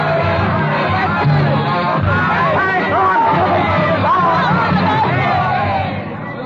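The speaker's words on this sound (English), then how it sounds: "Ragged, bearded patriots, eyes hot with the lust of battle, swarm madly in the Rue Saint-Nicaise" Agitated crowd of ragged, bearded revolutionaries swarming through the Rue Saint-Nicaise with pikes raised, a dense, loud and continuous babble of shouting voices close by.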